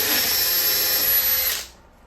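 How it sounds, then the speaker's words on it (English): A power drill bores a hole into the front panel of a wooden bluebird house, whining loudly and steadily before cutting off abruptly near the end. "Then just drill another hole in the middle of the front."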